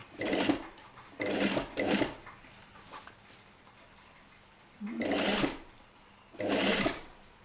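A sewing machine stitches a seam on a basque corset made from a Les Fées kit, running in short, loud bursts: three close together at the start, a long pause, then two more, each starting and stopping abruptly.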